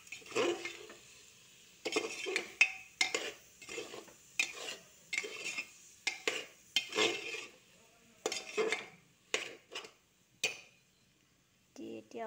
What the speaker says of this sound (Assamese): লৰাই দিছোঁ